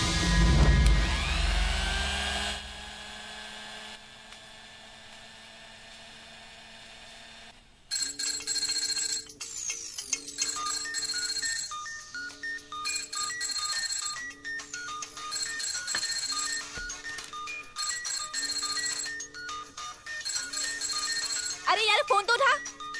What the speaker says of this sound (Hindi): अरे यार फोन तो उठा।